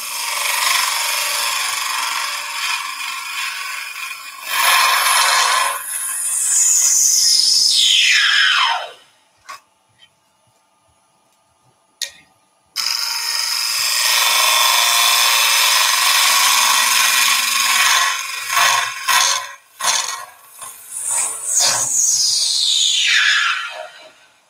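A lathe spins a twig and Ecopoxy resin bowl while a 1/4 inch gouge cuts it. A loud, close, rough scraping hiss comes in long passes with descending sweeps, breaks off into near silence midway, then resumes.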